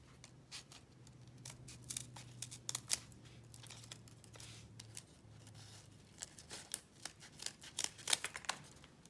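Scissors snip around paper heart shapes traced for a DIY Valentine's teddy bear pop-up card, giving quiet, irregular crisp cuts and paper rustles over a low steady hum, with no talking.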